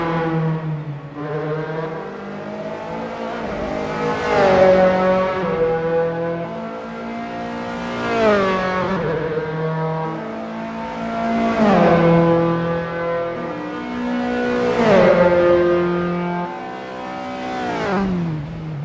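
A Dallara F312 race car in Assetto Corsa at Rattlesnake Point, its high-pitched engine climbing steadily through repeated upshifts in a regular rising-and-dropping rhythm, close and loud with no talk.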